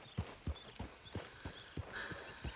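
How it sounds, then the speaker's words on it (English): Horse hooves clip-clop at a steady walking rhythm in the video game Red Dead Redemption 2, each fairly soft hoof strike distinct against quiet background. "this horse, he has a mind of his own"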